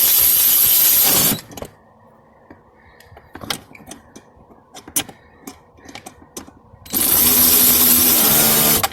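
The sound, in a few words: electric ratchet tightening screws on cabin air filter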